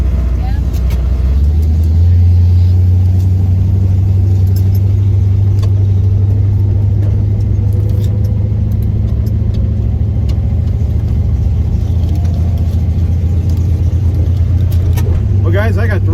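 A hot rod drag car at Hot Rod Drag Week roars down the strip, its engine a loud, deep, sustained drone that swells early and holds steady.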